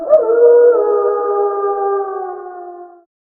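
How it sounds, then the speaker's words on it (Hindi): A dog howls once, a single loud, sustained, wavering wail with a quick rising start that holds for about three seconds and then cuts off into silence. "सही जवाब, कुत्ता।"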